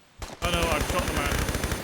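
Rapid automatic gunfire from the video game Tomb Raider III, a dense, loud burst of evenly spaced shots that starts after a brief thump and runs steadily to the end.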